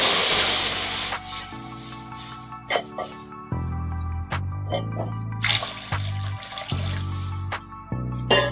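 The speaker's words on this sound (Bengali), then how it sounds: "এবার দিয়ে দেব জল।" Water is poured into a pan for elephant apple pickle after spices are dry-roasted, splashing and trickling in bursts, broken by sharp clinks and metallic knocks of utensils against the pan.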